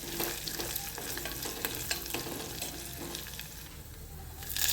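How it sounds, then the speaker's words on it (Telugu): Crushed garlic cloves, a dried red chili, cumin and mustard seeds frying in hot oil for a tempering, a steady close sizzle with light stirring scrapes throughout. "దంచి పెట్టుకున్న వెల్లుల్లిపాయ రేకలు 3, 1 ఎండుమిర్చి, 1/2 స్పూన్ జీలకర్ర, 1/2 స్పూన్ ఆవాలు మంచిగా ఫ్రై చేసుకోవాలి."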